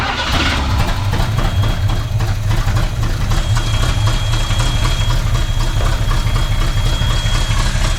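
A 1980s Chevrolet C10 pickup's engine idles close by after sitting abandoned for 22 years, a steady, loud rough rumble with a faint whine above it and no talking.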